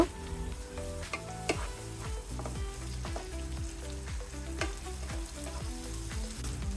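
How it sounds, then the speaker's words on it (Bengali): Ginger garlic paste and salt frying in a pan for a Bengali boal fish curry, a loud steady sizzle under repeated rhythmic scraping strokes of a spoon, with no voices. "এবার আমি একটা চামচের মতো আদা রসুন বাটা দিয়ে দেবো"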